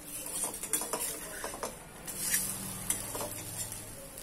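Satori, a sweet stuffed Maharashtrian flatbread, roasts in a kadhai or on a tawa with a faint, low sizzle, punctuated by light metallic clinks and scraping of a utensil against the pan.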